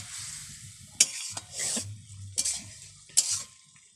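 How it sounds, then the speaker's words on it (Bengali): Mango boiling in water in a pan is stirred, with a spoon scraping and clinking against the metal in several distinct strokes over a soft bubbling simmer, close and moderately loud. "জল দিয়ে ভালো করে সেদ্ধ করে নিচ্ছি, নেড়ে চেড়ে"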